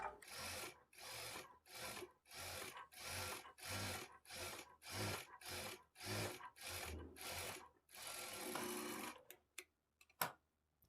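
Sewing machine stitching the lining of a blouse, running in repeated short bursts of rapid mechanical clatter separated by brief pauses, close by, followed by a longer run and a few scattered clicks near the end.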